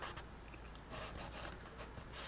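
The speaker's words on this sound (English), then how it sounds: "I'm just gonna come in and just loosely" Pencil loosely sketching a house in a sketchbook, a soft, steady graphite scratch close by that runs continuously, with a brighter, louder stroke at the very end.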